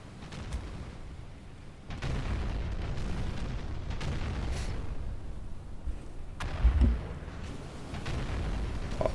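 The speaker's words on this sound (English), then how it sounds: "Oh, some big explosions there on the cruiser." Explosions rock a cruiser in the Battleship Command naval video game, a rumbling, continuous barrage of low booms with a few sharper bursts rising out of the din.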